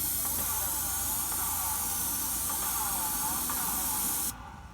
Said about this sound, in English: You don't have to spray that soffit, Dave.